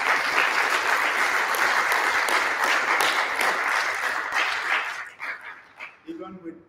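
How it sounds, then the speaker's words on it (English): Sustained audience applause fills the room for about five seconds, loud and dense, then thins into scattered claps with a few voices and faint yelps near the end. "let's give him a round of applause."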